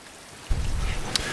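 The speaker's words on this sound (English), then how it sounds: "the reason the rain is such a hard and nasty thing for this difficulty mode" Rain falls in the Death Stranding video game, a soft hiss that swells abruptly into heavier, rumbling downpour with low thundery weight, steady and close, with no voices.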